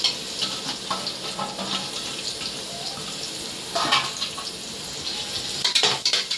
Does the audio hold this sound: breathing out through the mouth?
no